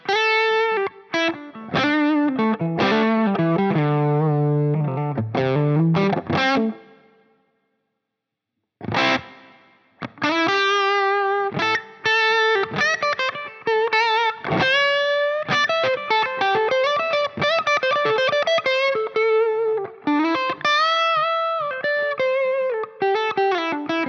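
An electric guitar played through a hall reverb on a Line 6 Helix, with distorted, chorused chords and single notes ringing out, a short pause midway, then more phrases trailing into a spacious ambient tail.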